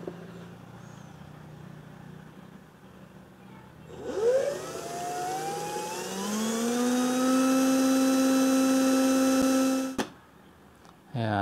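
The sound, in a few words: drilling a hole in the utility box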